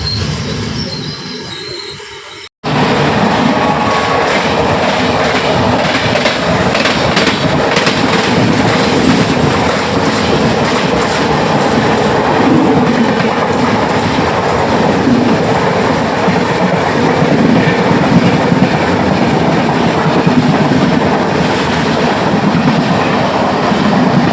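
After a brief quiet moment, the Sambalpur–Nanded Nagavalli Express, with LHB coaches, suddenly roars past at close range near Rayanapeta railway station, a loud, steady rumble of wheels on rails with rhythmic clatter throughout.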